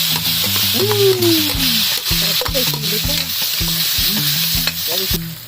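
Food sizzles loudly while it is sautéed in a pan. Tonal, voice-like sounds rise and fall over the steady frying throughout.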